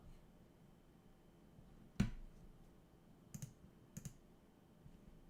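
A computer mouse clicks faintly while stock charts are being opened: one sharp click, then two quick double-clicks, all set against a quiet room.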